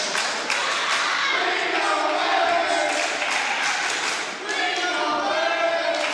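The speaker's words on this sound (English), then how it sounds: "And you see the crowd chanting ring awareness." A women's wrestling crowd fills an arena with dense, continuous chanting and cheering that rises and falls over several seconds, loud and surrounding, with no single clear voice above it.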